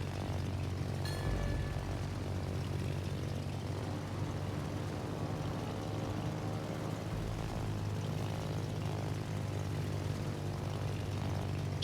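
Carrier aircraft propeller engines in the World of Warships naval video game drone steadily, a continuous low throbbing hum with a faint buzzing overtone, fairly quiet and unchanging, with no speech over it.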